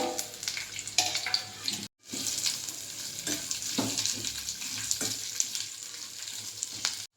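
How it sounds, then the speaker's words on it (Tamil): Bitter gourd fries in hot oil, a steady crackling sizzle with scraping stirs and a short pause partway through, close by. "இப்போ இந்த எண்ணெயில் பாவக்காயை போட்டு பொரிச்சு எடுத்துக்கலாம்"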